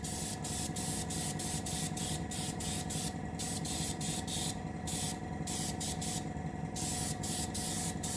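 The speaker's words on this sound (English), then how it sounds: "When you spray the varnish, you just need to come out a little heavier than normal." Steady spray of varnish onto a submarine model, a Russian Navy Project 955 Dolgoruky build, hissing continuously at close range with brief pauses between passes and no talking.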